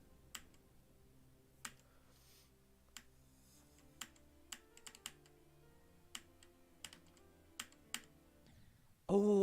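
Computer keyboard spacebar presses made while playing a video game, about a dozen sharp isolated clicks at an irregular pace over quiet background music.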